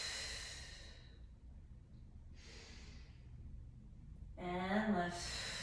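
A long breathy exhale during an abdominal crunch workout, a soft hiss that fades over a couple of seconds, followed by a brief louder voiced breath near the end.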